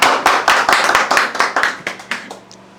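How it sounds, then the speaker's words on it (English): A small group claps through a round of applause at a home cooking contest, about a dozen sharp, close hand claps in an uneven burst that thins out and stops. "A round of applause for Chuchu."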